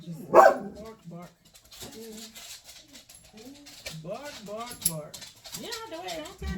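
A dog lets out one sharp, close bark at the start, followed by softer whimpering sounds under people talking nearby.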